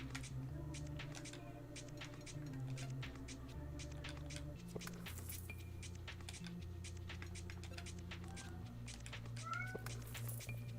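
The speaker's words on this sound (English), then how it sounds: "Hey, kitty cat." A house cat meows several times, close and fairly clear, layered over steady game music and small clicking sounds, with no talking.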